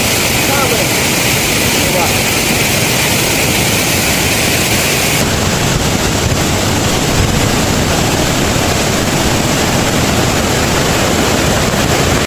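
A large waterfall in the mountains of Uttarakhand, heard as a loud, steady, close roar of falling water that holds unbroken throughout.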